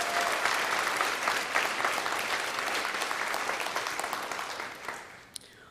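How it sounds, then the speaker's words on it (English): Sustained audience applause fills a convocation hall, a dense steady patter of many hands that holds for several seconds before thinning and fading out near the end. "Let's give her a round of applause."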